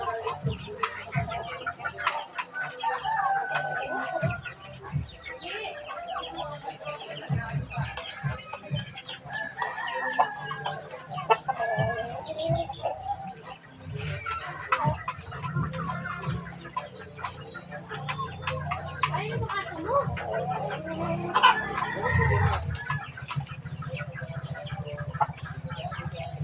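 A brooding hen sitting on eggs clucks softly and intermittently among other chicken sounds, with a rooster crowing faintly nearby in a yard with background noise.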